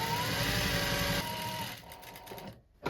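A sewing machine stitches fabric for a rolltop rucksack, running steadily and close, then slowing and pausing near the end before a brief restart.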